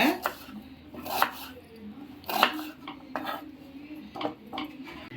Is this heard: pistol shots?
no